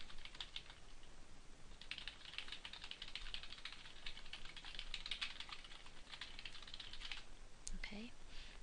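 Rapid, quiet clicking of fingers typing on a computer keyboard, close and continuous, with a faint voice murmuring near the end.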